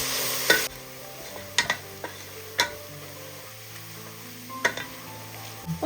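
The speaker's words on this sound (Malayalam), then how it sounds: "ഇനി ഇതിലേക്ക് ഒരു 4 മീഡിയം സൈസ് സവാള ഇതുപോലെ നീളത്തിൽ അരിഞ്ഞെടുത്തതും കൂടി ഇട്ട് കൊടുക്കാം. മീഡിയം ഫ്ലെയിമിൽ വെച്ചിട്ട് സവാള ഒന്ന് ഫ്രൈ ചെയ്ത്." Four medium onions, sliced lengthwise, fry in oil over a medium flame for chicken biryani. A soft, steady sizzle runs underneath, broken by sharp clicks and knocks of a utensil against the pan. No one speaks.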